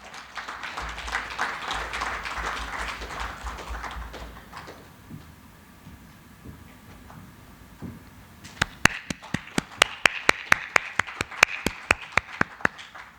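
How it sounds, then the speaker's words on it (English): Audience applause rings out at an award felicitation ceremony, a broad wash of many hands clapping for about four seconds, then quieter room noise before a run of sharp, evenly spaced slaps or taps close by. "please keep the applause going."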